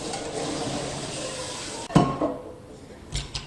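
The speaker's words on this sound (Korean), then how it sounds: "그럼 역시 찬물에 헹굴게요." Cold tap water runs and splashes over boiled glass noodles in a colander, a steady hiss that stops abruptly, followed by clinks and knocks of kitchenware.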